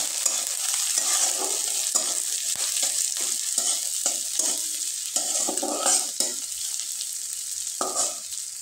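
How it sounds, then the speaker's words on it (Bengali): A vegetable filling with green chillies is stirred in a pan under a steady close sizzle, with repeated spoon scrapes and knocks in an uneven rhythm and no talking. "খুব ভালোভাবে নেড়ে চেড়ে নিব।"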